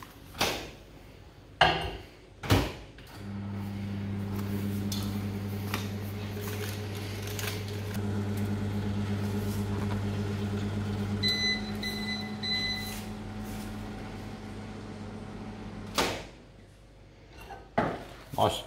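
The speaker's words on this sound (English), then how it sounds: "In the microwave for 30 seconds." A microwave oven hums steadily while melting a tablespoon of butter, its low drone running about eight seconds before electronic beeps, with handling clatter and brief talk around it.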